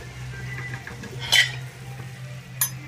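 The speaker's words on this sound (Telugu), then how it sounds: "ఈలోపు ఇక్కడ ఆయిల్ కాగుతుంది" A pan of cooking oil heats on the stove with a low steady sizzle, broken by a couple of sharp metallic clinks from a utensil against the pan.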